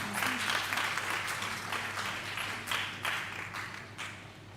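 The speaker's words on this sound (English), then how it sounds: "Let's give them a round of applause one more time." Audience applause at an International Missing Children's Day event, a steady wash of many hands clapping that swells and eases in waves for several seconds, fairly close and filling the room with no voices over it.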